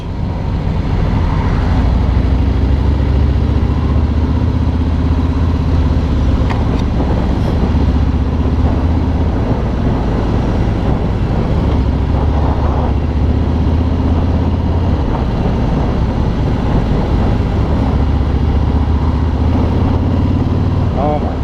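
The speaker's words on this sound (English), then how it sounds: "God, this engine is so good." A 2017 Harley-Davidson Road King Special engine rumbles while riding, a loud, continuous low drone with wind noise that never lets up, and a rider talks over it.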